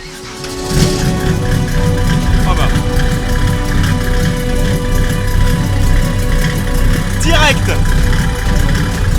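A Peugeot 505 fitted with a Mercedes OM606 diesel engine idles with a steady, loud rumble throughout, while people talk over it.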